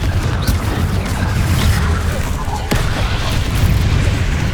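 A Confringo fire spell blasts in Hogwarts Legacy on PS5, a loud rolling boom and rumble that fills the moment, with a sharp crack partway through.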